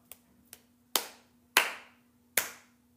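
Two soft claps followed by three louder, slower hand claps, close by in a quiet room with a faint hum.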